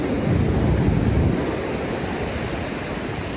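Ocean surf washes onto a beach in Bali, a steady broad roar of breaking waves with a slightly heavier surge at the start, continuous and fairly loud with no voices.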